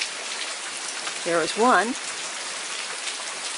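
Steady rain falls outside in a continuous hiss. Someone speaks briefly partway through, and the rain carries on under and after his voice.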